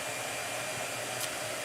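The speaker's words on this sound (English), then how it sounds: "All right, blow dryer." Blow dryer running, a steady, close, airy whoosh with a faint low motor hum, alone and unbroken for the whole short stretch.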